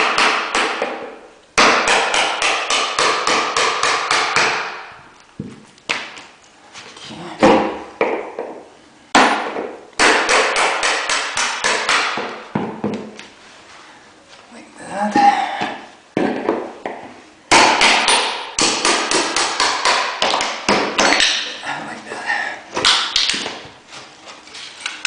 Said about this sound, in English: and use hammer